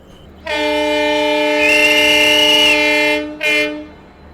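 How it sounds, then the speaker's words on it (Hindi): The Garvi Gujarat passenger train sounds a loud, close horn with a sustained tonal blast, a slight pitch lift midway and a short second toot as it departs the station. "ट्रेन जो है वो अब चल चुकी है"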